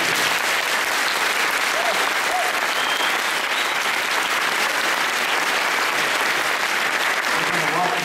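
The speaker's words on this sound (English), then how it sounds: "And please give an applause to Mr. Fresco, a revolutionary of our times," A large lecture audience applauds continuously, dense clapping throughout with no pauses, loud and close.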